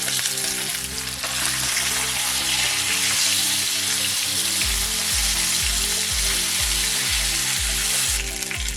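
Mackerel fish frying in a pan as pieces are turned, a loud continuous sizzle with scraping and stirring knocks, steady throughout.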